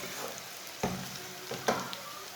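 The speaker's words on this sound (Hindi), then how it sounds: "अदरक और लहसुन को मैंने 2 मिनट तक पका लिया है।" Ginger and garlic fry in a pan, giving a low steady sizzle broken by two short scraping stirs of a spoon, close and fairly quiet, with no talking.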